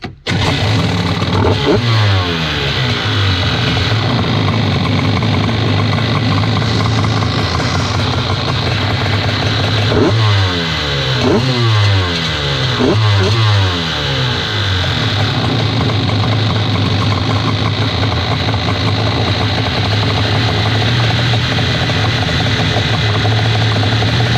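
A racing engine with freshly tuned carburetors roars loudly and steadily nearby, climbing through three or four sharp revving bursts before settling back to a rough, throaty idle.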